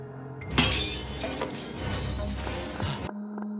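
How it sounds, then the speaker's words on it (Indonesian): Window glass shatters under thrown stones in a film scene, a sudden loud crash followed by about two and a half seconds of dense, clattering shards and debris before it stops abruptly, leaving a low hum. "mereka terbangun setelah mendengar kaca jendela dilempari batu"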